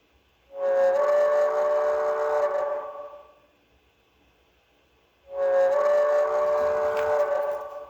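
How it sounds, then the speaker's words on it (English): Two long, loud steam whistle blasts from a model train's MP3 sound player, each lasting a couple of seconds and separated by a short pause, rich and reedy with no talking. "you could have the steam whistle."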